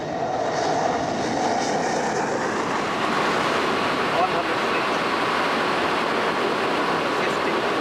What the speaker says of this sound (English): As Andy Barnwell steadily manoeuvres the aircraft down the glide slope